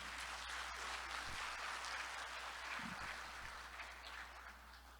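Applause from an audience at the opening ceremony of an electrical engineering society's academic conference, following a traditional Korean music and dance performance by a city gugak orchestra: dense, steady clapping throughout that fades slightly toward the end.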